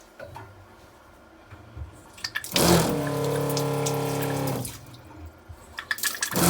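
A loud, steady rush of running water with a droning Par-Max water pump hum in a boat engine room kicks in for about two seconds, then cuts off, leaving quiet room noise.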